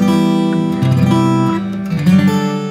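An acoustic guitar strums elevated open chords up the neck, ringing and sustained, shifting between a few bright voicings over a couple of seconds with no talking.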